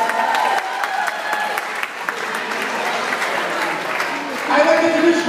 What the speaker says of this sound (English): Give yourself a big round of applause if you're able.